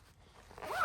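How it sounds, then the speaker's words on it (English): A brief zipper being pulled, a quick rising rasp close up that ends the short quiet moment, beside a brisk cooking on a pellet grill. "I'll find the zipper."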